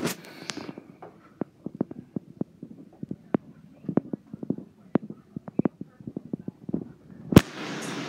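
Rapid bursts of small video game explosions crackle and pop in an irregular string, with one loud blast near the end.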